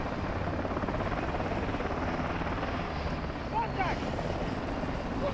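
Steady, fairly loud rotor thrum of a helicopter flying in the Modern Warfare 2 campaign, a continuous droning wash with brief faint high tones over it.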